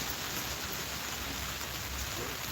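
Steady rain falls outdoors at night, a dense even hiss with no breaks and no talk over it.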